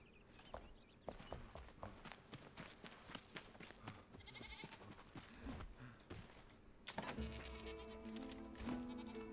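Goats bleating in the survival video game Enshrouded, several short bleats scattered among clicking keyboard taps and soft in-game footsteps, with a denser burst of sound near the end.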